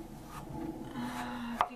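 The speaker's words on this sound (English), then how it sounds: "but I figured I'd show how I tend to cut them" A knife cutting a potato into french fry strips, soft close cuts and a sharper blade knock on the board near the end, quiet and brief, over a faint background hum from a movie.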